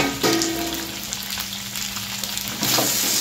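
Semolina balls tossed into a pan of hot oil with turmeric, Kashmiri chilli, salt and chaat masala give a continuous close sizzle and fry, with a few stirring scrapes, no talk.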